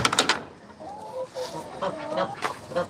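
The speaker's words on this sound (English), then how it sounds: "There's my chickens." Chickens and ducks on an equestrian farm clucking and quacking nearby, several soft overlapping calls over faint outdoor background noise.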